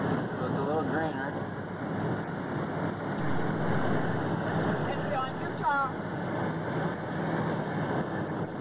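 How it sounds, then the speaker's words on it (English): An RV engine drones steadily while the vehicle drives along a highway in Utah, a continuous low road and motor rumble that runs throughout, with people talking over it. "you can hear the engine and the driving of the RV"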